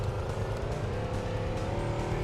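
Plymouth Roadrunner engine droning steadily in Gran Turismo 2 during the Seattle 100 Miles endurance event, a loud continuous rumble with faint tire noise.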